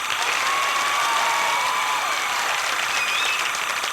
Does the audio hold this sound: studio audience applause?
yes